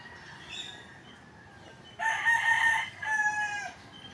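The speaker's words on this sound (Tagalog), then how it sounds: "tandang natin nga guys, dito lang sa puno ng kawayan." A rooster crows twice in close succession, loud and near, among bamboo in a backyard, over a faint outdoor background with no talking.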